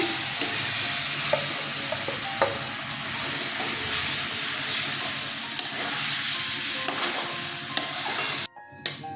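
A paste of ground chana dal with coriander powder fries in a pan for vegetarian dhokar dalna, a continuous close sizzle with scattered pops and scraping, cutting off abruptly near the end.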